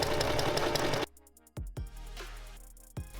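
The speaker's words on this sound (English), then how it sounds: "I can sew lining with lining and sequin with sequin on this side." A sewing machine stitches lining and sequin fabric in short bursts, its rapid mechanical whir starting and stopping with brief pauses, close and moderately loud with no talking.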